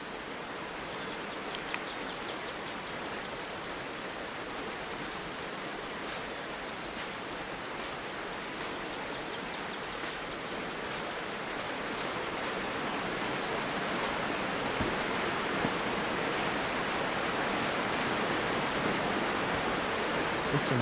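Steady rushing water of a flowing river in Call of the Sea, a broad continuous hiss with no breaks, holding even and unbroken throughout with faint background ticks.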